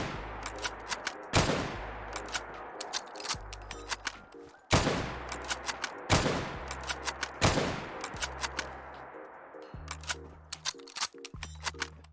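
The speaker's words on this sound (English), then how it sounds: "let's take a look at the infantry rifle, which you will be reloading with a stripper clip" An infantry rifle in a Fallout 4 mod fires several loud sharp shots with long ringing tails between bursts of mechanical clicking and clacking from stripper clip reloads and bolt work, repeating in an uneven rhythm.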